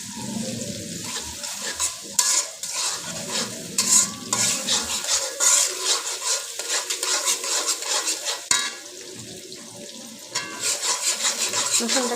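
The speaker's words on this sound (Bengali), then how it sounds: "রসুনটাকে ভালো করে ভেজে নেই" Garlic fries in mustard oil for an olive pickle, sizzling loudly and close up under repeated scraping stirs and clinks of a metal spoon against the pan.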